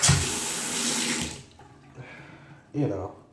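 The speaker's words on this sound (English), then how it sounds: "it looks like a kitchen faucet" Water gushes from a kitchen faucet in a loud, close stream for over a second before stopping, followed by a person speaking with a brief burst of water near the end.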